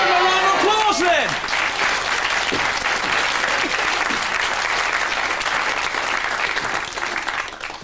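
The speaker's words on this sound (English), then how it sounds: "give him a round of applause, then" A live audience at a Sooty puppet show gives a full round of applause, dense and loud throughout, with a brief voice at the start before the clapping carries on and tapers slightly at the end.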